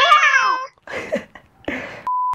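A cat gives one clear, falling meow, followed by a few scuffling, rustling noises and a short electronic beep tone at the end.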